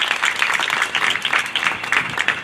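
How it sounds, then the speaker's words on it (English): An audience at an East Orange LGBTQIA+ flag raising ceremony gives a round of applause, a dense, steady clapping from many hands that stays loud and even throughout, with no voices over it. "To all of our directors that are present this evening, let's give our health department a round of applause."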